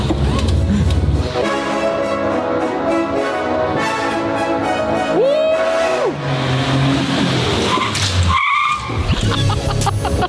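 A 660 cc, 50 horsepower vehicle engine running and revving hard, a loud close drone with rising and falling pitch sweeps and tire squeal, briefly cutting out near the end.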